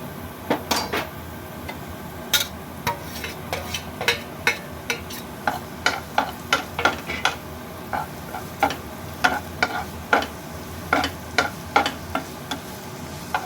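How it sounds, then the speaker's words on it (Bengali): Minced garlic fries in oil with a steady sizzle, while a spoon or spatula scrapes and taps the pan in a regular rhythm of sharp knocks, close and clear, with no talking. "রসুনটা একটু ভেজে নিই"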